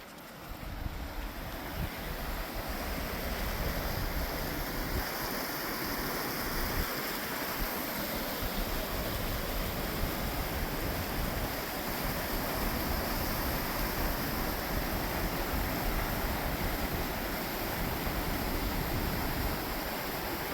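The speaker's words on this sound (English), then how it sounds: "But this was that bubbling water we was hearing." Water rushes and burbles steadily in a stream beside a bridge on an outdoor walk, a continuous broadband wash with some wind noise, even and moderately loud with no talking.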